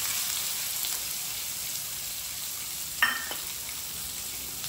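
Bay leaf, dried red chillies, cumin and finely chopped onions fry in oil over high heat, a soft, even sizzle with one sharp clack partway through and no talking.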